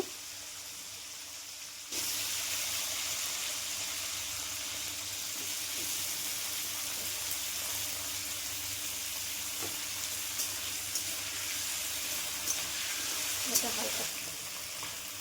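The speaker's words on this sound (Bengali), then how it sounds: "এবার আমি তেলের মধ্যে ফুলকপিগুলোকে দিয়ে দেব। দিয়ে ফুলকপিটাকে হালকা নাড়াচাড়া করে নেব।" Cauliflower dropped into hot oil sets off a sudden loud sizzle that carries on steadily, with a few faint scrapes of stirring and some low background noise.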